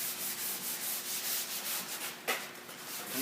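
Wax is rubbed by hand over the patina paint of a 1954 Studebaker, a soft rhythmic swishing of repeated strokes at close range, followed by a sharper scuff near the end.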